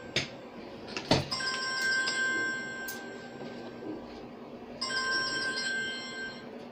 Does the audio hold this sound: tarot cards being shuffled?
no